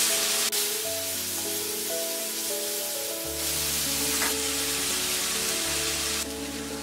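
Onions, tomatoes and spices such as turmeric, garam masala and ginger garlic paste frying in a pan, a loud continuous sizzle with a faint clink partway through, close and without talking.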